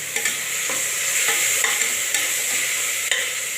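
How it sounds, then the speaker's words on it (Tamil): Ginger, garlic and fennel paste sautéing in a hot pan for ghee tomato rice, a steady bright sizzle with a few soft stirring scrapes, close and loud with no voices. "இஞ்சி பூண்டு சோம்பு அரைச்சா பேஸ்ட்டு அதில் போட்டுக்கலாம் நல்லா இது வதங்கட்டும்"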